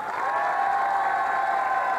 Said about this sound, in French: Applaudissez plus fort, il le mérite.